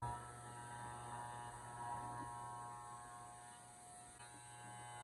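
Electric hair clippers fitted with a guide comb buzz steadily in a faint, continuous hum while cutting hair, with slight swells in the tone and no talking.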